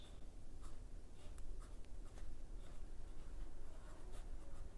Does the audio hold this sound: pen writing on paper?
yes